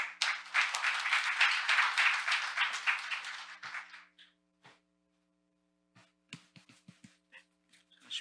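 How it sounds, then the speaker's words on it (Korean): A conference audience claps for a speaker introduced to give a talk on AI and ESG at a fintech week event, dense applause for about four seconds that then fades to a few scattered claps. "박수 부탁드리겠습니다"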